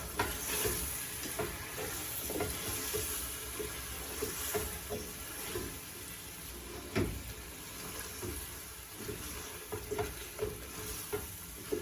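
Seasoning for Moroccan couscous, ginger and pepper among it, stirred together with a spoon, a steady run of scraping and clinking strokes over a soft hiss, no speech.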